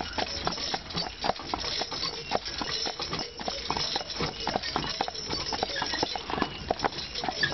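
Driven horses walk at a steady pace, their hooves clip-clopping in an even, continuous rhythm at moderate distance, with no talk over it.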